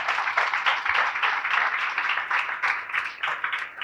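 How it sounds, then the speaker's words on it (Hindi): A church congregation in Karachi claps loudly in a sustained burst of applause, with dense, uneven hand claps continuing evenly throughout. "कराची की हमारी कलीसिया जोरदार तालियां"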